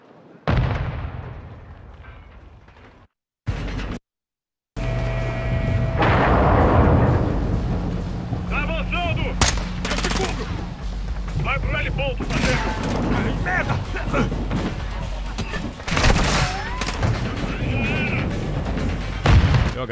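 Grenade explosion in the Call of Duty Modern Warfare II campaign, a heavy boom amid sustained gunfire and battle noise, loud and continuous after a brief gap, with a voice talking over the action.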